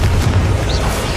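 A Confringo fire-blast spell going off in Hogwarts Legacy: a single loud, thick booming burst with deep rumble and hissing crackle throughout, close and with no voices.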